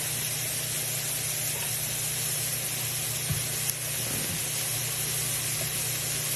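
Vegetables sizzle steadily while sautéing in an Instant Pot, a close, continuous hiss of frying with faint occasional clicks and no voices.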